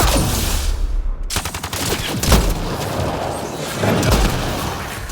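Dense gunfire during a combat scene in Mass Effect: Andromeda: rapid automatic bursts and heavy booming shots overlap in a loud, continuous barrage with no clear breaks.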